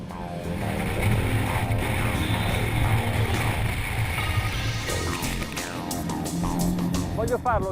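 A powerful engine drones steadily while the hull of a Sessa Marine FLY45 motor yacht thuds against oncoming waves and water rushes and splashes, with wind buffeting throughout; a person talks over it.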